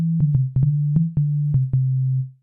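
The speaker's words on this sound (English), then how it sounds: "Here you can see our sine wave." A low sub bass sine wave holds a steady pitch alone, broken by several brief clicks at uneven intervals before fading out at the end.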